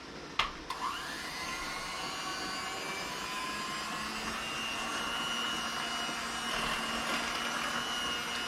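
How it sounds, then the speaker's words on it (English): An electric mixer blends chopped apples for apple butter, giving a steady, loud motor whir that holds throughout after a couple of brief knocks at the start. "I use a mixer, and it kind of splatters"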